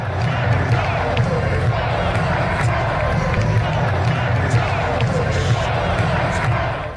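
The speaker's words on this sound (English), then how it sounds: "Carolina crowd getting wild." An ice hockey crowd in Carolina's arena roars steadily through a Stanley Cup Finals game against Vegas, a loud, continuous wash of voices and cheers with the rumble of the building beneath.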